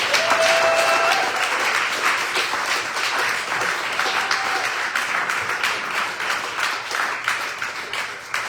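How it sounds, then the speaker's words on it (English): Election-night campaign volunteers applaud in a sustained, dense round of clapping that stays loud throughout and tapers only slightly toward the end. "give yourselves a round of applause"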